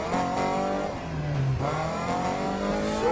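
A car engine revs and surges through rising and falling harmonic sweeps in the racing game Need for Speed Heat, loud and continuous with a brief dip midway, alone without voices.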